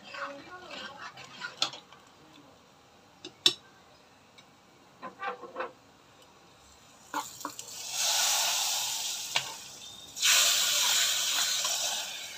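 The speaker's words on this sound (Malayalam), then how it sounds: "അപ്പം ഞാൻ കായപ്പൊടിയും കൂടെ ചേർത്തിട്ട് ഇനി നമ്മുടെ സാമ്പാറിലോട്ട് ഒഴിച്ചു കൊടുക്കട്ടെ" Hot tempering with asafoetida poured into a pot of sambar, bursting into a loud broad hiss and sizzle after scattered quiet clicks and taps, surging twice and holding steady near the end.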